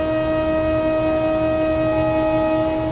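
Putri Deli passenger train at Tebing Tinggi station, a steady loud rail rumble with a sustained two-tone horn blaring throughout, no voices.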